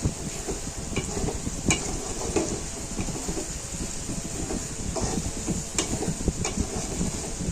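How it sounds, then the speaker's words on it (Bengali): Spices sauté and sizzle in a pan for fish curry, giving a dense, steady frying hiss with frequent scraping stirs close by throughout. "এখন এই যে মশলা কষাচ্ছি"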